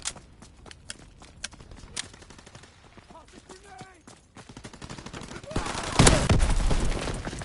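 Shotgun and rifle fire in Call of Duty WWII, with sharp, scattered shots and a loud, dense burst of gunfire near the end over background battle noise.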